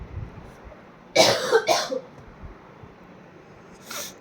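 A person with a sore throat and lingering cough coughs twice in quick succession, close and loud, followed by a softer cough a couple of seconds later.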